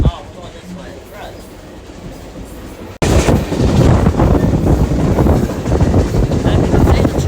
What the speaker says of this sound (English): you can see the train going about 30 miles an hour right now